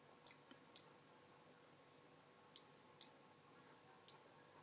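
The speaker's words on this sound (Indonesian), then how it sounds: "Klik kanan, action." Several sharp, quiet computer mouse right-clicks, some in quick pairs, spaced irregularly over a near-silent background.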